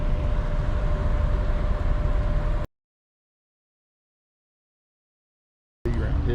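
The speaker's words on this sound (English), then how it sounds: "it gets a little bit loud when you get towards the funnel, because we're sitting in port, so the engines are just running" The Silver Moon cruise ship's engines run while docked in port, heard on deck 11 near the funnel. A loud, steady broadband rumble drops to total silence midway, then returns.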